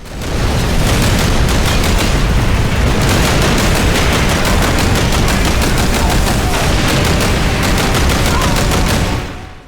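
Dense, nonstop Call of Duty 3 combat: rapid machine-gun bursts and rifle fire with booming explosions layered together, loud and continuous for nearly ten seconds.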